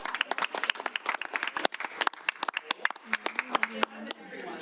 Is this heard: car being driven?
no